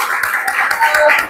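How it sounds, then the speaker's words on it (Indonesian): A classroom group claps for group 2 during a teaching exam session, a short, dense burst of hand clapping with a voice speaking alongside it. "Oke, kita aplaus untuk kelompok 2."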